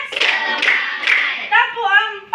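A class claps rhythmically in short bursts alongside a children's chant, the claps tightly mixed with the voices over a couple of seconds.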